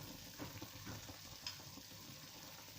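Kuymak stirred in a pan gives a soft, steady sizzle of frying with faint scraping from the stirring. It is quiet, close and continuous, with no talk.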